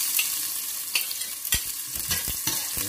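Garlic frying in cooking oil in a pan, with a steady sizzle and repeated stirring scrapes and knocks from a utensil, close and moderately loud, with no talking.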